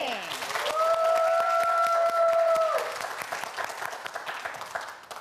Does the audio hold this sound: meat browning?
no